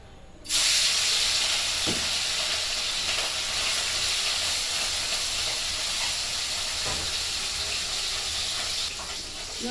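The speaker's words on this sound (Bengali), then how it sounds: "মাছ কটা ভেজে নেবো অল্প অল্প করে" Fish frying in oil: after a brief quiet moment, a loud, steady sizzle and hiss begins and carries on evenly, close up, with a couple of faint clinks underneath before it eases slightly near the end.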